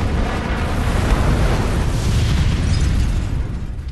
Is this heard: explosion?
yes